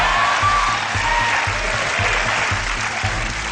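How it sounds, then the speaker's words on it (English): A studio audience applauds steadily throughout, dense continuous clapping filling the room with a low rhythmic thump underneath. "the audience clapped"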